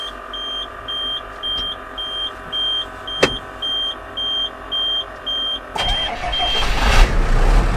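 An old truck's engine is cranked on a cold day, with a rhythmic beeping chime repeating at regular intervals over a low idle hum, one sharp click midway, then the engine catches and roars louder as it warms up.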